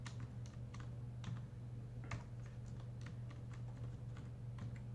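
Rapid, steady clicks of computer keyboard typing while text is entered for a brochure design, close and fairly quiet over a constant low electrical hum.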